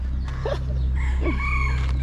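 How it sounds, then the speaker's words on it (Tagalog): A rooster crows nearby in a short, strained call amid faint clucking, over a steady low background hum. "Kaber na manok."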